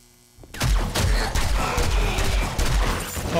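Rapid gunfire from a weapon in the video game 7 Days to Die bursts in after a brief quiet moment, then continues as a loud, dense fusillade of overlapping shots for the rest of the clip.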